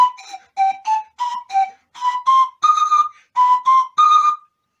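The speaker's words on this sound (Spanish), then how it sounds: "Eso es el chiflador del afilador, que es español." A wooden pan flute of the Spanish knife sharpener's type, tuned slightly smoother: a bright series of short whistled notes in quick rising and falling runs, played close and alone.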